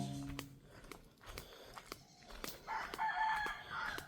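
A rooster crows in a rural hill-forest setting, a single drawn-out crow rising late in the clip over soft scattered clicks and rustles, moderately near and alone without talk.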